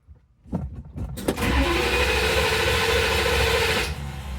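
A 1967 Dodge Coronet with a 318 V8 and automatic transmission cranks briefly from cold, then fires and settles into a loud, steady running rumble close to the microphone, with no one talking.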